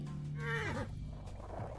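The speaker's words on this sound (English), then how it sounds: "ChewCat found the best button in the game, which is the horse noises button" Horse neighing and whinnying from a sound button in the video game Skate Horse, one drawn-out, wavering whinny that rises and falls, heard up close and alone.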